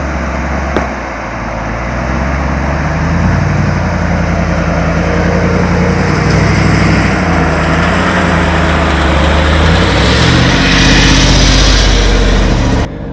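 Jeep engine working through a sandy bottom on an offroad trail in Vernal, Utah, a steady low engine drone that swells as throttle is added, with continuous rumble and wind noise throughout.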